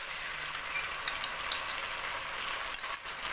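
Vegetables and sauce stir-fried for egg chowmein give a soft, steady sizzle with small clicks of utensil against pan, fairly quiet and without talking.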